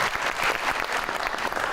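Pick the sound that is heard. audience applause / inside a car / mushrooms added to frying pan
audience applause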